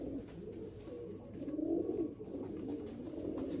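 Older pigeons cooing softly in a pigeon loft, a faint continuous low murmur of coos with a slight swell midway and no voices.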